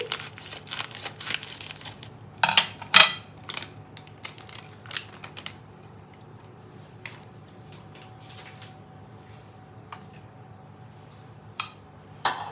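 A knife cuts through a block of paneer on a plate, giving sharp clicks and scraping taps clustered early, then sparse faint clinks over a quiet kitchen background.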